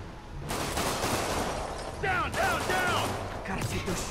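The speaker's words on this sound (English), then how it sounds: "Now who's shooting at me?" Gunfire aimed at Spider-Man in Marvel's Spider-Man video game, a dense continuous fusillade of shots with mechanical clatter and whooshing effects, loud and near.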